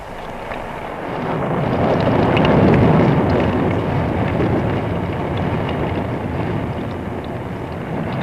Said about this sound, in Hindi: बड़े जोर की हवा चल रही है, धूल भी है।